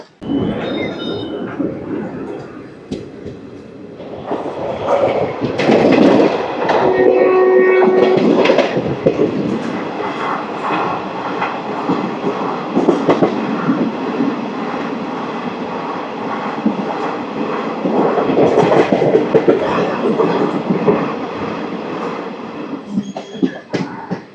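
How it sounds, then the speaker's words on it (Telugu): The Rayagada - Guntur Express runs along the line just after leaving Anakapalli, a loud continuous rumble and clatter of wheels on track heard from on board, with occasional squeals and a brief high whine. "అనకాపల్లి నుంచి మన ట్రైన్ అయితే స్టార్ట్ అయిపోయింది"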